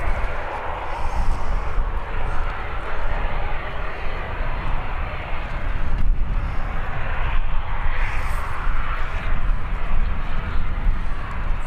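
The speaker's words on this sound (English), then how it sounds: "We've got EasyJet departing, we've got another EasyJet departing" EasyJet airliners departing Birmingham airport, a loud continuous jet engine roar with broadband rumble holding steady throughout, heard from nearby outdoors.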